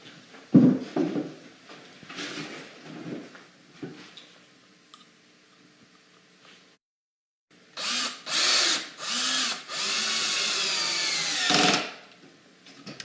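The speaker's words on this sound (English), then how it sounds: "put a couple pocket hole screws in there" A power drill drives pocket hole screws into wood while building a window seat, with a few short bursts early on, a pause, then several longer close whirring runs that slow as each screw seats; no talking.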